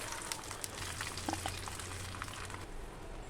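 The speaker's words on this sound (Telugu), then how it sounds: "మెంతులు వేసి అది బాగా ఫ్రై అయిన తర్వాత అందులోకి ఆవాలు మినపప్పు జీలకర్ర వలిసిన వెల్లిపాయలు కొంచెం ఎక్కువ వేస్తున్నాను" Fenugreek, mustard seeds, urad dal, cumin and plenty of garlic fry in hot oil as a tempering for sambar rice, a steady close sizzle with faint crackles and pops throughout.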